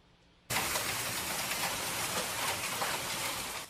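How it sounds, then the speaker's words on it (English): Hail storm in North Texas, a sudden onset of dense, loud hissing clatter of hailstones coming down, continuous and steady after a brief quiet start. "Look at all that hail coming down."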